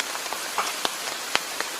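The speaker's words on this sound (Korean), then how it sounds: "아주 시원하게 비가 내리고 있고요" Rain falls at a valley campsite in Korea. Scattered drops tap nearby on a tent or surface over a steady, soft background wash.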